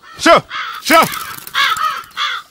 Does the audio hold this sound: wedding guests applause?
no